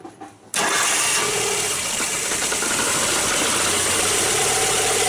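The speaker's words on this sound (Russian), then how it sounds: "Итак, Иван Федорович, заведите машину." A car engine fitted with a K-151V carburetor starts after a brief cranking moment, then settles straight into a loud, steady, close-up idle that continues to the end.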